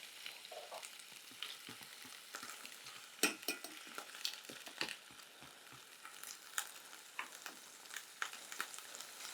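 Lamb browning in an oiled, preheated dish gives a steady, close frying sizzle, with soft stirring scrapes and a few sharp crackles and pops spread across it; no voices.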